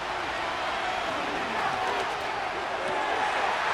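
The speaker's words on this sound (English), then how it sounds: "A big play here as the crowd noise rises." Dense, steady roar of a large American football stadium crowd, broad and continuous, swelling slightly in the middle and staying loud throughout.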